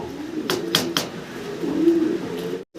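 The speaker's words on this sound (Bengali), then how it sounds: "মাল্টেস কবুতর আমরা দেখতেছি একদম জেড ব্ল্যাক" Jet-black Maltese pigeons at a farm give soft, low cooing close by, with a few sharp knocks and flutters early on and a brief gap near the end.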